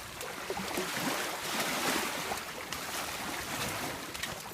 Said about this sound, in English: I apologize if the waves are pretty loud.